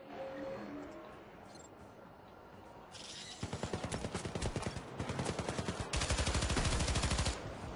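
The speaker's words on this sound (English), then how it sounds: "Machine gun." Machine gun fire in the video game Syndicate comes in rapid bursts after a quieter start, the last two bursts long and sustained.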